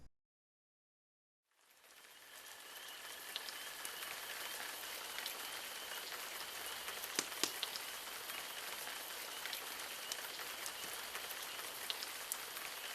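Spring rain falls at night in a steady, dense patter that starts after a moment of silence and holds evenly throughout, with no voices.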